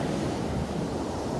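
Ocean surf washes steadily onto the shore, a continuous broadband rush with wind noise buffeting the microphone, fairly loud and with no voices.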